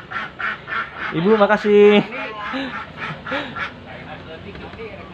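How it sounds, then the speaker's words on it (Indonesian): Ducks kept with free-range chickens at a rural family home among rice paddies quack in a few short bursts, close by, while people talk over and between the calls. "Ini ada bebek nih. Ada bebek."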